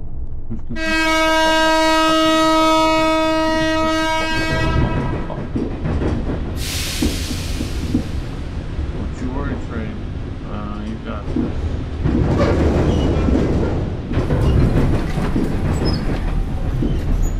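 A train in a video game passes loudly and close, opening with a long sustained horn blast followed by rumbling wheels and clickety-clack on the rails.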